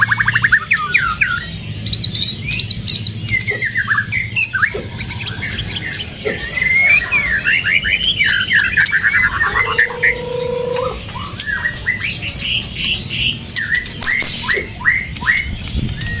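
A wild-caught white-rumped shama from Aceh sings a rich, varied run of whistles and chirps, near and clear, with short squawky notes and a low steady hum underneath.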